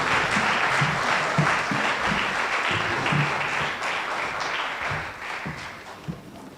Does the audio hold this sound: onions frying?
no